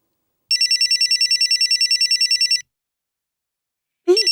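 A telephone rings in rapid trilling pulses for about two seconds, stops, then starts ringing again after a short silence.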